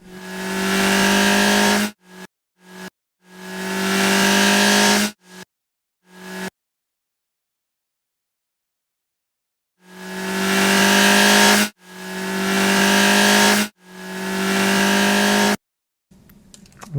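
An aggressive game car sound effect plays several times, with the bass cut and treble raised between passes: loud, close revving engine bursts of differing lengths, separated by sharp cuts and a long silent gap.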